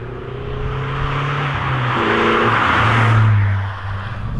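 A Renaultsport Twingo 133 hot hatch engine revs up through second gear, its tone rising and swelling louder before easing off, heard from inside with no talking.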